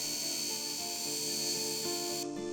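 An old dump truck on a farm idles steadily after starting, a continuous engine drone with a whining, buzzing overtone from the air compressor, close and loud, ending with a brief change near the end.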